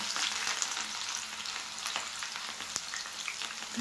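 Chopped onion hissing in a hot pan, a dense even sizzle held at moderate level for a few seconds with no voices.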